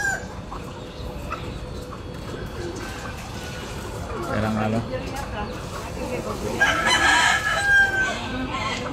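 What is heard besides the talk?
fighting rooster crowing and clucking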